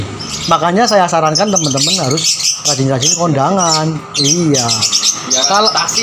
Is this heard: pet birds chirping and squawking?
yes